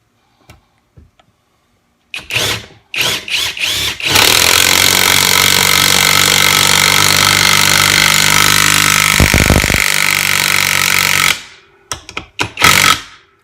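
A Kimo 20V cordless 1/2-inch impact wrench drives a bolt into the side of a piece of wood: several short loud bursts, then one long continuous hammering run of about seven seconds, followed by a few more brief bursts.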